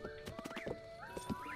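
A horse in Zelda: Breath of the Wild clip-clops along with a run of hoof beats, and a whinny-like rising tone is heard among the steps over quiet game ambience.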